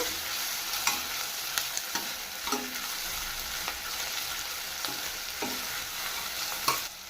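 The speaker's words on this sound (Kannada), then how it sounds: "ಕ್ಯಾಪ್ಸಿಕಮ್ಮು ಮೀಡಿಯಮ್ಮಾಗೆ ಫ್ರೈ ಮಾಡ್ಕೋಬೇಕು" Capsicum and green chilies fry gently in a pan under a low, continuous sizzle, punctuated by regular spatula scrapes and taps at a close, moderate level.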